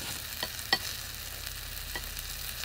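Pork and kimchi stir-fry in a skillet, giving a faint, steady sizzle with a few soft clinks of stirring, heard close and quiet with no talk.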